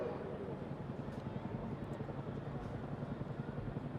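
A Chinook twin-rotor helicopter flies at a seaside airshow, a steady broadband rotor and engine roar with a faint rhythmic thump, fairly distant and constant throughout.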